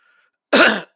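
A single short, loud cough, a harsh throat-clearing burst close to the microphone after a moment of near silence.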